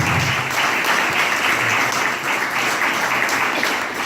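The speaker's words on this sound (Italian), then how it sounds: "comunque farei un applauso anche a loro" Dense, steady applause from an Italian event audience, a continuous wash of many clapping hands filling the whole stretch at close range.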